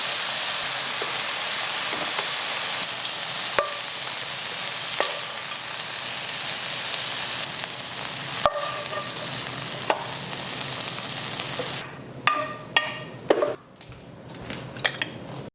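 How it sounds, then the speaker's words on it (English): A chicken and shrimp mixture sizzles steadily in a pan, a loud continuous frying hiss broken by occasional sharp utensil clicks and scrapes, with stirring getting busier and more clattery near the end. "We're going to continue to stir this mixture until everything is completely cooked"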